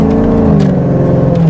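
New Edge Ford Mustang GT V8 revving up close, a loud, throaty engine note climbing steadily through a short burst with no voices.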